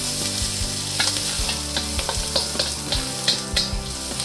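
Hot peppers and green onions frying over high heat for General Tso's chicken give off a steady, crackling sizzle, with repeated sharp clicks from stirring utensils scraping the pan.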